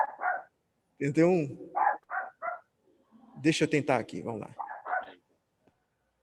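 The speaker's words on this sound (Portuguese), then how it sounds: "Tem um cachorro latindo aí," A dog barking in short sharp yaps, mixed with and partly under a person talking in bursts, with quiet pauses between.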